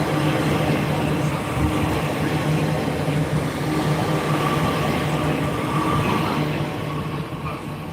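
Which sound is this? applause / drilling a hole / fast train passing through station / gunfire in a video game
fast train passing through station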